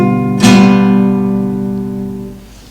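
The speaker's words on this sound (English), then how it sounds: "the so chord, has got more members, and it sounds like this" A fifth chord strummed once on a stringed chordophone, its sustained harmonic tones ringing clearly and slowly decaying over a couple of seconds, with no talking.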